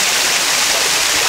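Steady flowing water, like a stream or small waterfall, runs below a high walkway inside a free-roaming monkey enclosure at London Zoo, a continuous broadband rush heard alone at moderate loudness.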